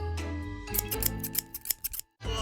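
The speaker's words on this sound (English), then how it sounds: "I'll cut your nails." Nail clippers snip a cat's claws in a quick series of short, sharp clicks, loud and close, over a steady background hum.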